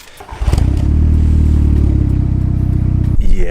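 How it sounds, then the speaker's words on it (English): A car engine cranks briefly, then catches and settles into a loud, steady idle close by, cut off abruptly near the end. "So if we start the engine, it sounds amazing as well"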